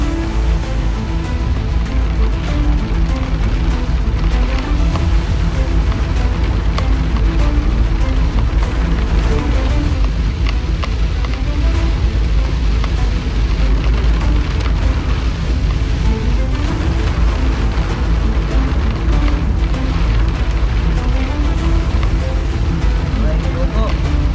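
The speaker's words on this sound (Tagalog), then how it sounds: "Lakas ng ulan." Heavy rain roars against a Suzuki DA64W minivan on a road trip through the Visayas, a dense, unbroken wash of noise that stays loud and constant throughout.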